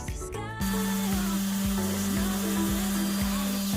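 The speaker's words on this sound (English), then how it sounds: "get you a piece of teak and just go to town with the sander" Power sander working on a piece of teak to strip old varnish, starting abruptly and then running steadily with a loud motor hum and rhythmic pulsing as it is moved across the wood.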